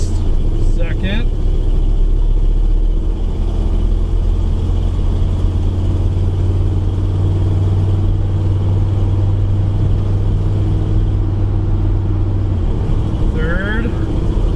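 A turbocharged Ford F100 truck engine drones loud and steady while pulling up through the gears, with a low rumble underneath and a brief shift in pitch near the end.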